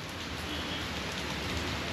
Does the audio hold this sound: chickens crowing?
no